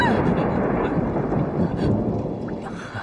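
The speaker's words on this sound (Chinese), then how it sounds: "师兄，我怕打雷" Thunder rumbles deep and continuous through a storm, rolling on without a break and heard alone.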